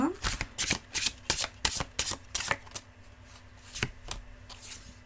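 Tarot cards are shuffled close up in a quick run of crisp riffling bursts that slow and thin out toward the end, with no talk.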